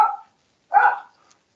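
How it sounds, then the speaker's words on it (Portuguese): A dog barks twice, close and loud, the two short barks separated by a brief pause. "Aqui fica difícil com um cachorro latindo assim."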